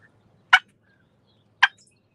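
Two separate, sharp clucks from a small push-button turkey call imitate a turkey, close and clear against near silence outdoors.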